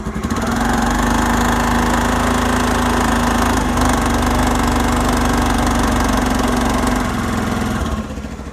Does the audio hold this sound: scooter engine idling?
yes